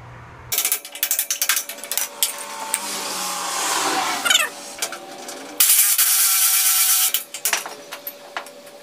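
Ratchet wrench working loose trailer spring shackles, bursts of fast clicking pawl strokes alternating with metallic scraping and a stretch of louder steady mechanical noise, close and loud without talk.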